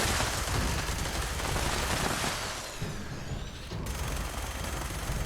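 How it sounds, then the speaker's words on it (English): The Foundation's Vengeance 5mm minigun from Fallout 76 firing explosive rounds, a dense, continuous roar of rapid fire and overlapping blasts that briefly dips before resuming loudly. "The Foundation's Vengeance is a 5mm minigun, but the bullets explode as you use them."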